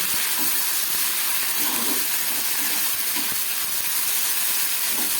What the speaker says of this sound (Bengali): একদম গ্যাস কম করে অল্প একটু ভেজে নিচ্ছি